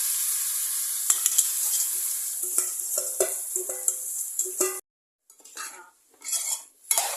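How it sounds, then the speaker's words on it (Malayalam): Mango pieces coated in turmeric and salt hit a hot pan for pickle, crackling in a lively sizzle with metal utensil clinks and stirring, then a brief hush before scattered sizzling resumes. "മാങ്ങ ഇടുവാണ്, എല്ലാം വഴണ്ട് വന്നു."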